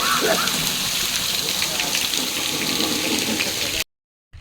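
Irrigation water gushing and splashing into a furrowed wheat field on a farm, a steady loud rushing that continues nearly unbroken before cutting off abruptly near the end.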